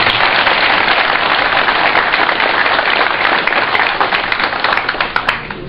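An audience at a campaign office opening for a candidate breaks into sustained, dense clapping that holds loud and steady for several seconds before thinning slightly toward the end.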